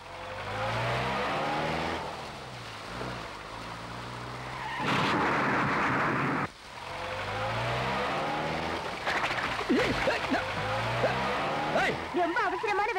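A car reverses in a Tamil film scene: its engine whines and revs up and down, with a burst of tire skid in the middle, while voices talk faintly underneath.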